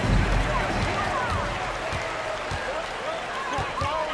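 Crowd cheering in a basketball video game featuring LeBron James, late in the fourth quarter: a steady, loud arena roar with scattered whistles and shouts, swelling briefly at the start.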